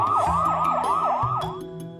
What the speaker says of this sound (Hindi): पूरे रोड पर पुलिस के सायरन जोर जोर से बजने लगे।